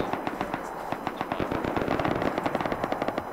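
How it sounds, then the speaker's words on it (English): Rapid video-game gunfire bursts out in a busy exchange, automatic rattles mixed with single sharp shots, close and loud with no talk over it. "I'm hearing a lot of bang bangs"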